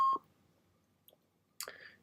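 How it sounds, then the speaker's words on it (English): Cockpit systems in a SAAB 340 in the X-Plane flight simulator give a few short electronic beeps and clicks, spaced apart against near silence. "Lots of beeping."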